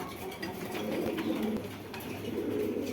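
Soft, low cooing from caged pigeons at a bird market, including Siraji, long-face and racer breeds, keeps up a faint, continuous murmur in the background.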